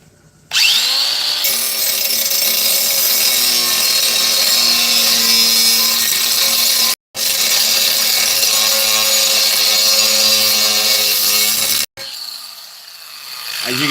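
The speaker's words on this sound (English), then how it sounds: "this is the Moorhead angle grinder. It does got a pretty decent kick to it." Moorhead angle grinder cutting, a loud high-pitched whine with a grinding rasp that runs steadily, stops briefly twice and resumes, then winds down at the end, close to the microphone with no voices.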